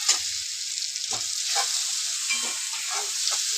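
Onion and tomato sauté in a pan over medium heat for a Marathi leftover-rice dish, a continuous bright sizzle broken by soft scrapes and clinks of stirring.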